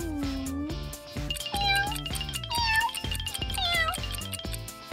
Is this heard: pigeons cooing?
no